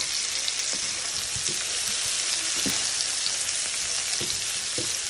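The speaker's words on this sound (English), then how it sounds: "we're going to fry this up just like you would cabbage" Brussels sprouts with chili garlic sauce and honey sriracha fry in a pan, giving a steady broadband sizzle with scattered small pops and crackles throughout, close and unbroken by any voice.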